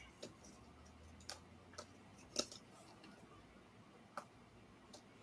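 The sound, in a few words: clock ticking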